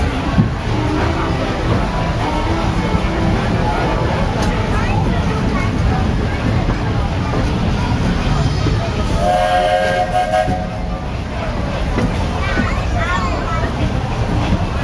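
Steam train ride at Magic Kingdom, Walt Disney World, with a steady rumble and rattle of the rail cars throughout and a brief whistle tone near the middle, while a crowd murmurs and people talk over it.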